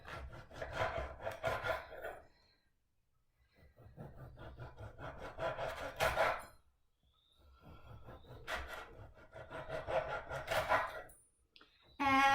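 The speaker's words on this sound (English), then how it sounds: "I'm going to slice it nice in diagonal slices so they get a little bit bigger" A knife saws through bread in diagonal slices, giving three separate bursts of close, rasping back-and-forth strokes with short quiet pauses between them.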